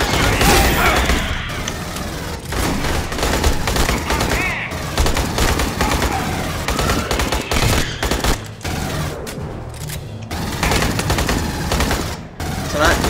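Loud automatic gunfire in the video game Aliens: Colonial Marines, with long rattling bursts broken by short pauses and occasional booms.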